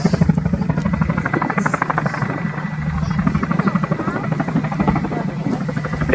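Military helicopter hovering with an underslung quad bike load at the RAF Cosford air display, a loud continuous rotor thump with a steady fast beat, distant crowd-field ambience and talk underneath.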